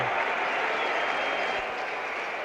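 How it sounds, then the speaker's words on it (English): A West Indian crowd at the 1975 World Cup cricket final between Australia and West Indies cheers and applauds after a wicket falls, a dense, steady roar of distant clapping and shouting filling the whole stretch. "The West Indian crowd is going wild over on the left of the ground"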